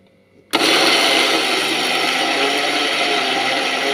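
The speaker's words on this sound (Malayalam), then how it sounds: "ഇനി നമുക്ക് ഈ തേങ്ങ വറുത്തത് അരച്ചെടുക്കാം." A mixer grinder whirs loudly as it grinds roasted coconut into a paste for prawn theeyal curry, starting abruptly after a brief quiet moment and then running steadily at full power.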